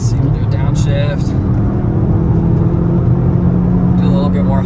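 A 2020 VW GTI MK7.5 engine drones loudly from inside the cabin through a downshift while driving, a steady rumbling tone with a slight rise in pitch, continuous throughout.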